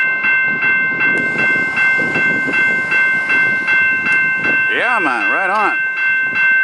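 A Peterbilt truck hauls freight train cars along a CP rail line, making a steady rhythmic clatter of wheels over rail joints with a constant tonal whine. Someone talks over it and briefly makes a loud whooping sound near the end.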